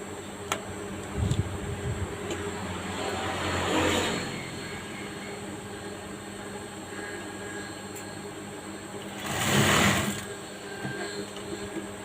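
A sewing machine stitches fabric while a trouser waistband and pocket are being repaired, running in two short, moderately loud bursts over a steady low background hum.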